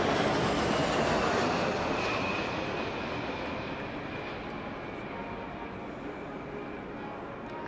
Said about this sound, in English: we're looking at the RC-135 rivet joint, another one of the Royal Air Force's I-Star aircraft